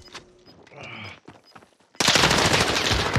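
Call of Duty: Warzone gunfire: scattered shots and clicks, then a loud sustained burst of rapid automatic fire filling the last second and more.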